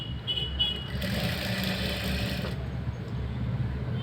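A sewing machine stitches along a sleeve lining with a steady, low mechanical whirr and faint rhythmic clatter, running continuously at moderate volume with a brief higher-pitched stretch in the middle.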